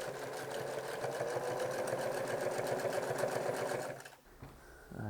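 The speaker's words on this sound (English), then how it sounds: "along the top of the sleeve here is the one other place I'm going to top stitch for strength." A sewing machine top stitching the sleeves of a turtleneck, a fast even needle rattle running close and steady for about four seconds before stopping abruptly, no talking.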